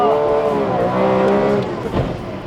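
A Tuthill Porsche 911K drives hard on a race track, its engine note loud and close with harmonic tones rising and falling as it revs, then shifting near the end.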